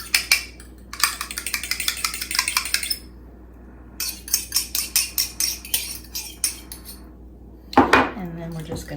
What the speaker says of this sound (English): I'm just going to give them a little bit of a quick mix so that the egg yolk is broken up